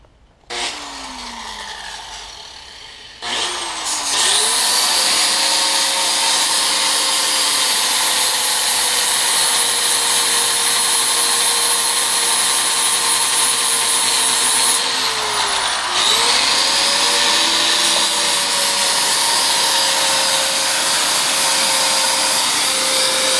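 A grinder cuts into a supercharger manifold for clearance during a Mercedes coupe supercharger installation, a loud, sustained high-pitched whine that spins up, runs steadily, dips briefly mid-cut and then continues close by.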